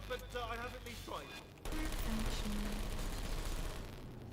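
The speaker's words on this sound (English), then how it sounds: "It's a bit late, this, but look out for gunfire." Dense, rapid gunfire from turrets in the video game Portal 2 erupts after a brief stretch of talk. A continuous loud burst of shots carries on to the end.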